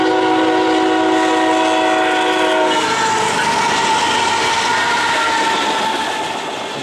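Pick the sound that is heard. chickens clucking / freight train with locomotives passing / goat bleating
freight train with locomotives passing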